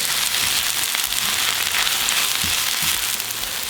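Garlic sizzles steadily with spinach in a hot pan, a loud, continuous hiss and crackle with faint stirring clicks and no voices.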